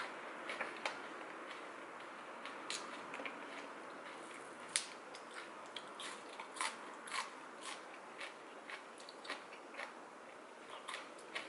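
Crisp crunching bites of fresh raw vegetables eaten with Thai salmon larb, a steady run of sharp close-up crunches and chews, fairly faint, with no talking.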